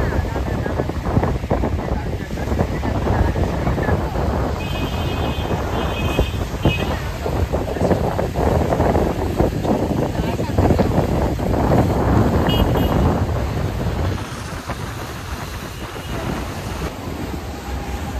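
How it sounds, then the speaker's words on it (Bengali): Strong gusty wind buffets the microphone at the Diamond Harbour riverside, a loud continuous rumble that eases briefly near the end, with faint water and occasional voices underneath. "বিশাল জোরে হাওয়া দিচ্ছে, দারুণ লাগছে এসে"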